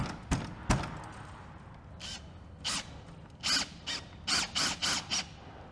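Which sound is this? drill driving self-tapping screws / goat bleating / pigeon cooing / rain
drill driving self-tapping screws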